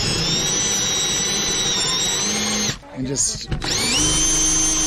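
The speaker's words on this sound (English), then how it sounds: "drill out the bung until we get to the old screw." A cheap Forstner bit in a power drill bores out a wooden bung in a boat hull, a loud high whine that cuts off briefly, restarts, and runs on, with someone speaking over it.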